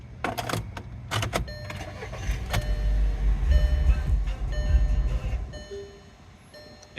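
A 2008 Volkswagen Passat with about 87,000 miles cranks and fires up, a few sharp clicks and cranking bursts giving way to a rising engine rumble that settles into a steady idle, close by and alone.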